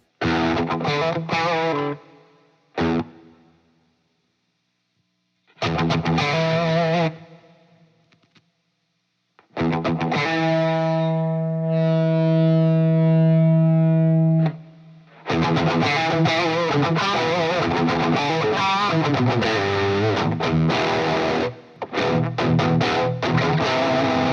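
Electric guitar played through a Boss OD-2 overdrive pedal, gritty distorted chords and a sustained ringing note, with a couple of short pauses between phrases.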